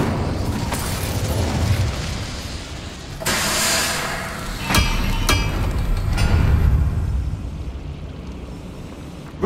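Incendio fire spell cast in Hogwarts Legacy, a loud fiery burst with rumbling whooshes and several sharp bangs over a steady low game roar.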